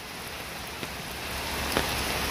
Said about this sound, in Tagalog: Yung tubig kasi galing ng kalsada, pumapasok dito, umaagos, oh.